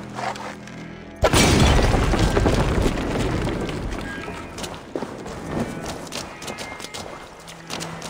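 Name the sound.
explosion in the video game Assassin's Creed Valhalla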